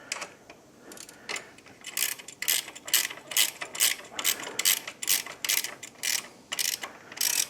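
A hand ratchet snugs a 14 millimeter fastener on a clamp of a Royal Enfield Himalayan motorcycle, close quick bursts of clicking in repeated rhythmic strokes with short pauses, no talk.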